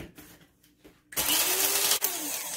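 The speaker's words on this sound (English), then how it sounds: "I'm just gonna grind some in to the grinder, the electric grinder." An electric grinder whirs into a loud, steady grinding of wet and dry jerk sauce ingredients after a quiet start, with a brief dip partway through before the motor continues.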